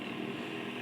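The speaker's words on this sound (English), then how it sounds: "you can hear those vehicles, those motorcycles," A steady, droning engine roar, like motorcycles running nearby outdoors, holding an even loudness throughout with no voices.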